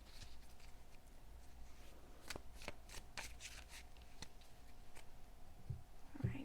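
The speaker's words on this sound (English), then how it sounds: "Just giving it a little shuffle there" Soft, quick riffling and shuffling of tarot cards in bursts, close and quiet, with a few light taps between.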